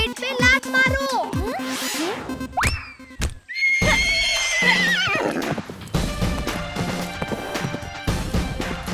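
A cartoon horse in a Hindi animated comedy whinnies several times between bursts of clip-clop hooves and a crash, all close and lively with comic sound effects around it.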